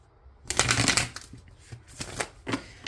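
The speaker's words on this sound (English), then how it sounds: "I'm going to do a quick shuffle." Tarot cards being shuffled by hand, a quick riffling burst followed by a few shorter shuffling strokes, close and clear.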